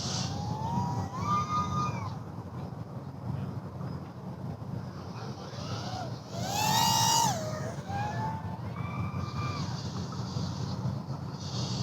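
Brotherhobby or BetaFPV 2004 drone motor running at full throttle on a test stand, a high whining tone that rises and falls in pitch with throttle changes, steady and fairly close over a broad whooshing background.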